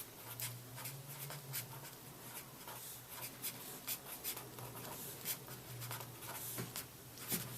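A marker writes an equation on a board: steady close scratching strokes with short pauses, faint, over a low electrical hum.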